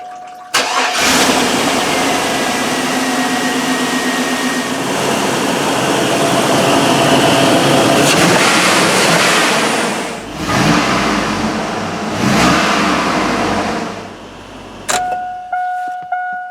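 A GMT800 Yukon's 5.3 engine cranks and catches, then runs loudly close by with several revs rising and falling before it is shut off near the end.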